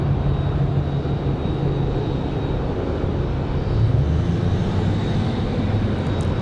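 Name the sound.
aircraft departing Raleigh-Durham airport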